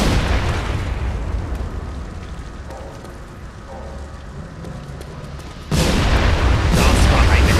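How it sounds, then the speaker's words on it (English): A broad burst of noise from an explosion in The Saboteur hits early, fades to a low rumble, then a second loud blast erupts and sustains into a roaring crackle. "Das war eine Explosion."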